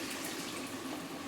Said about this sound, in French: On va rajouter un grand verre d'eau.